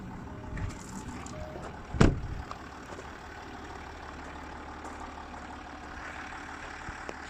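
A 2010 Land Rover Discovery 4 HSE idles in a low, steady rumble, with one brief louder knock or thump near the middle and faint background noise throughout.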